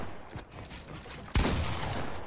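Gunfire crackles in a competitive shooter game, a quieter burst early on followed by a sharp, loud shot and continuing rapid fire that carries through to the end.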